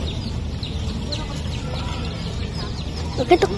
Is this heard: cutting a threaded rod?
no